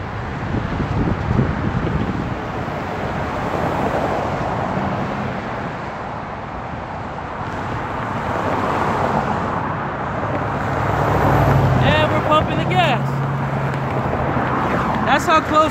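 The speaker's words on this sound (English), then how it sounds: "That's how close we are to all the cars." Cars rush past close by on a roadway, whooshing and rumbling under heavy wind noise with occasional voices nearby.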